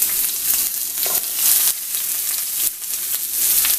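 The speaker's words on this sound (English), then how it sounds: "we're just gonna saute our vegetables down" Vegetables sautéing in a hot pan for quesadillas, a steady loud sizzle with crackling pops and occasional stirring scrapes, no voices.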